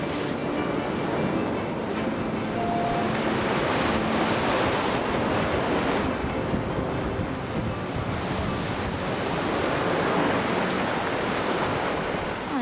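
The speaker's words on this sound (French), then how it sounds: "surfe sur les vagues mouvementées" Rough sea surf and rushing water roar continuously against a sailboat hull in cold northern waters, with steady wind noise buffeting the microphone throughout.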